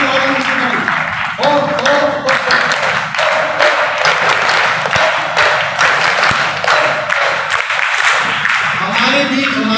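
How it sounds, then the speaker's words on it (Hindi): An audience at a Veer Bhagat Singh Yuva Dal event applauds a professor, loud sustained clapping close by running the whole time, with a voice speaking over it. "एक बार प्रोफेसर के लिए तालियां जोरदार।"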